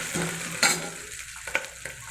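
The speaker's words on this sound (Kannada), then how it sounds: "ಶುಂಠಿ ಕೂಡ ಎಣ್ಣೆನಲ್ಲಿ ಫ್ರೈ ಆಗಬೇಕು" Crushed ginger frying in hot oil in a pan for a vegetable biryani, with a soft sizzle broken by a few sharp scrapes and clinks of a stirring spoon.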